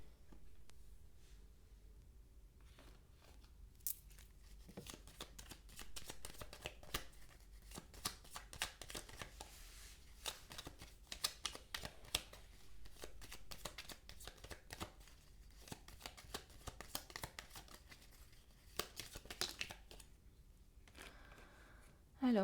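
Playing cards being shuffled for a card reading: soft, irregular riffling clicks and light taps that come and go at low volume.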